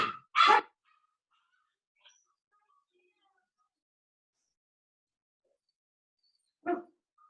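A dog barks a few times in short, sharp bursts, one near the start and another several seconds later, separated by near silence.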